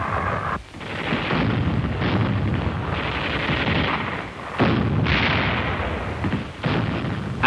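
Heavy artillery barrage pounding the Iwo Jima beachhead near Mount Suribachi in wartime, a dense, continuous roar of blasts and rumbling bursts that swells and dips, with brief lulls before the pounding resumes.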